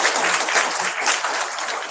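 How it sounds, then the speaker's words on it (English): A science event audience in Shillong gives warm applause, a loud, continuous burst of many hands clapping, close and filling the whole moment. "Can we please give a warm round of applause to each and every single one of"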